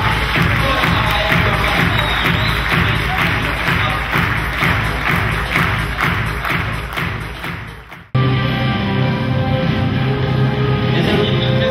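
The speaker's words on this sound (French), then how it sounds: "on applaudit tous très fort l'équipe JLM" An audience applauds the JLM team at the 2011–2012 JLM final event, with dense, sustained clapping throughout that breaks off briefly near the end and then resumes as a steady applause wash.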